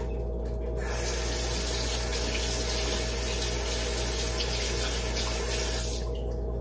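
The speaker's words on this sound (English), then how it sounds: "So let's rinse off the tablespoon." Tap water runs steadily into a kitchen sink while a tablespoon is rinsed during home cooking, a continuous close splashing stream for most of the clip, cut off near the end.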